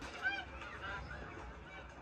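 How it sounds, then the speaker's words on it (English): A goose honks in an anime episode, a faint, muffled nasal call rising briefly over a dense, low background mix. "They finna cook the goose?"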